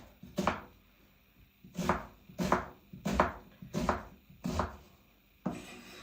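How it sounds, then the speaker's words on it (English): A knife chops onions into squares on a cutting board, with seven separate close thuds spaced about a second apart and quiet gaps between them. "I am chopping them into some kind of squares."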